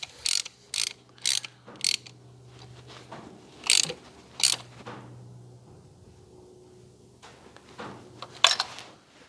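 Ratchet wrench tightening a spark plug on a Mazda CX7 engine, with bursts of quick clicking in several short runs separated by pauses, close and fairly clear over a low steady hum.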